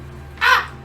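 A single crow call, one short harsh caw rising clearly over a quiet indoor background, loud and close, lasting under half a second.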